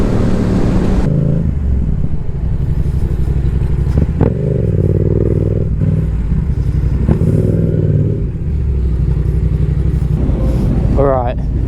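A large group of about 45 motorcycles rides along a road, engine drone loud and steady throughout, with a close, continuous rumble and brief shifts in pitch as bikes pass.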